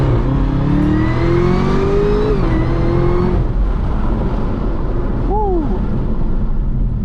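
A Chevrolet Camaro ZL1 engine revs up hard from inside the cabin, a loud climbing drone that shifts and pulls back before a short second rise, heard alone without talk.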